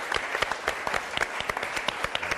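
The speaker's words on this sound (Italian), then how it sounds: "Un applauso per lui" A studio audience on an Italian television programme applauds the professor Dino Del Ponte with a steady patter of many hands clapping at moderate volume.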